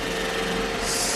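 An iRobot Roomba E5 robot vacuum running about a foot away, a steady, dense mechanical whir with a constant tonal hum and brushy hiss that continues unbroken.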